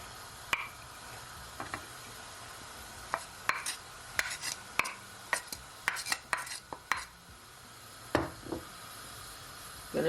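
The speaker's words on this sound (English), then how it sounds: "gonna give it a stir" Sorrel steeping in a pot of boiling water as it is stirred, with scattered light clinks and taps of a spoon against the pot over a quiet bubbling background.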